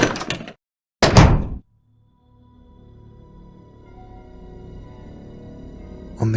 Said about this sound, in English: They entered the door.